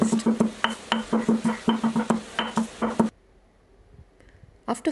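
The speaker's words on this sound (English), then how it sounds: "Crush the fried red chillies and tamarind in a mortar pestle" Fried red chillies and tamarind crushed in a mortar with a pestle, a close run of sharp, rhythmic knocks and grinding thuds for about three seconds, then near silence before one last strike.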